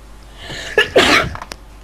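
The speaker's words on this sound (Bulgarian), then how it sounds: "Толкова ти беше добра шегата, че кихнах." A single loud, close sneeze with a quick inhaled build-up and sharp burst, against a quiet indoor background with no talking.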